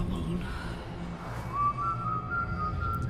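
A thin whistled melody in a horror film trailer drifts over a busy, murky background of music and rumble, steady and moderately quiet.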